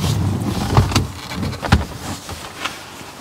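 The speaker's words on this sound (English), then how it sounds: "I might as well open the boot now" Boot of a Saab 9-3 Aero being opened, a low mechanical rumble with a few soft thumps and clunks as the lid releases and lifts, close by.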